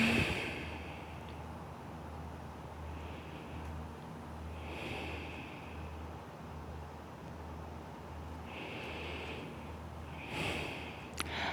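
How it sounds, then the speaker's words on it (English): Slow, deep breaths during a yoga stretch, a few drawn-out inhales and exhales rising faintly and evenly over a low steady hum. "Close your eyes and find here about 3 cycles of breath."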